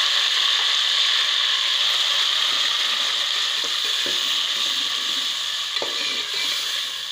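Ground spices being stirred into garlic and tomato frying in a pan, a continuous loud hiss of sizzling with occasional scraping clicks from stirring.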